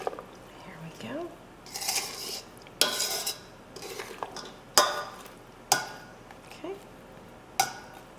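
Fruit for homemade mincemeat is stirred in orange juice, with wet squishing and scraping strokes and sharp spoon clinks against the dish at irregular intervals, fairly quiet.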